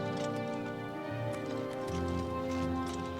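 Horse hooves clip-clop steadily in the video game Oblivion Remastered, a continuous rhythmic patter over a dense, sustained game music and ambience bed.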